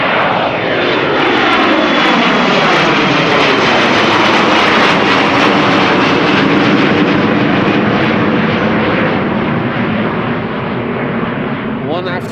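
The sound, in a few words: jet airliner departing Amsterdam Schiphol Airport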